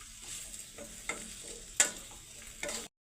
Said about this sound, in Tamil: சேர்த்து கிளறி விடணும்